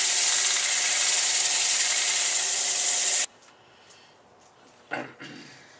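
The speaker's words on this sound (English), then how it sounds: "We've sanded this using a non-powered sander" Steady, continuous hand-sanding of wood with a non-powered sander using 280-grit paper, a loud broadband rubbing hiss for about three seconds that stops abruptly, followed by near quiet and one brief knock.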